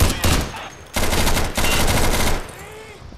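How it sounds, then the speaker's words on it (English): Bursts of rapid gunfire from the tactical shooter game Insurgency, loud and close, arriving in dense volleys with brief gaps between them. "why are you shooting at me?"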